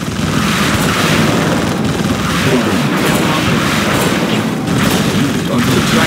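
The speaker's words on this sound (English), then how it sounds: "Civilian explosion detected." Booming explosions and battle fire rumble through a Command & Conquer 3: Kane's Wrath skirmish, a loud, dense, continuous barrage with repeated heavy bursts and no clear pauses.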